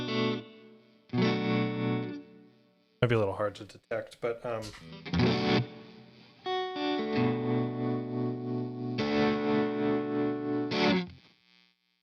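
Electric guitar through a Beetronics Fat Bee overdrive with tremolo and reverb, sustained distorted chords and a burst of picked notes, with someone talking briefly over the playing.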